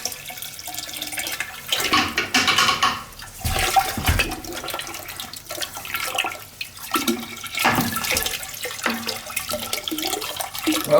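Water gushes and splashes as a large Weil-McLain boiler tank drains, a loud continuous rushing flow with gurgling surges and some clanks, no talking.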